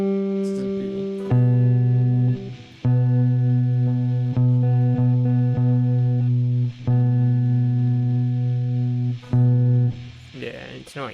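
Sustained electric guitar notes ring through a chorus and echo effects chain, each held for a couple of seconds with brief gaps between them, steady and fairly loud, played by a beginner.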